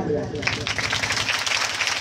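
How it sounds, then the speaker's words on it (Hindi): Rapid, dense clapping from a crowd fills the space, steady and continuous, with a voice audible underneath. "सभी लोग एक बार हनुमान जी को आशीर्वाद देंगे तालियां बजा के"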